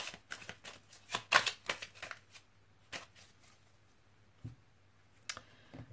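A deck of tarot cards is cut and shuffled, giving a run of quick papery riffles and flicks, densest early on, then scattered soft taps over a faint steady hum.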